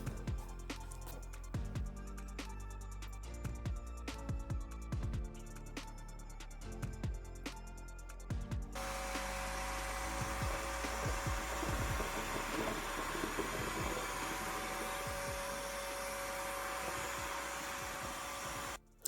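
Wet-dry vacuum floor washer sucking up egg from a floor, starting with scattered clicks and knocks, then a steady loud suction whine with gurgling that runs continuously until it cuts off at the end.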